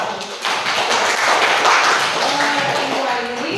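Classroom applause for a student group during a science lesson, a quick burst of clapping from a small group of people, close and fairly loud, mixed with tapping and some background voices.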